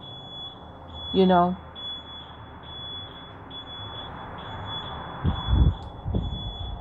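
A steady high-pitched electronic alarm tone sounds continuously throughout, with a brief voice early on and some low thumps near the end.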